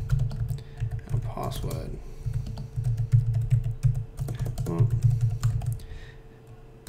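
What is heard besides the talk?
typing a command on a computer keyboard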